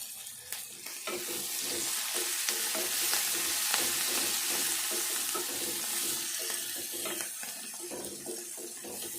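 Egg gravy being stirred in a pan, a continuous hissing sizzle with soft scraping strokes of the spoon repeating underneath, close and fairly steady.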